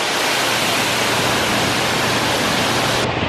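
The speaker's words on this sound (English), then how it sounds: "There's a whole big beautiful waterfall back here, which I've never even seen." A big waterfall at EPCOT in Walt Disney World roars with a steady, dense rush of falling water that fills the whole scene without letting up.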